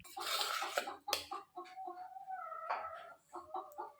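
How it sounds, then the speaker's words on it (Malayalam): A hen cackles loudly and repeatedly just after laying an egg in a village yard, with uneven bursts of clucking close by and some background voices or household noise mixed in. "കോഴിപ്പെണ്ണ് മുട്ടയിട്ടിട്ടുണ്ട് കേട്ടോ ഇനിയിപ്പോൾ കുറേ നേരത്തേക്ക് ഒച്ചയും ബഹളമൊക്കെ ആയിരിക്കും"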